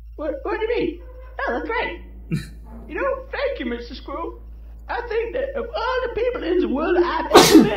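A cartoon character sneezes in the Nintendo 64 game Conker's Bad Fur Day, a sharp, loud burst near the end, following animated character dialogue.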